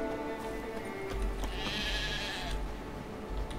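A sheep in the video game The Witcher 3 bleats in a drawn-out, wavering cry against a steady low rumble, with faint clopping hooves in the background.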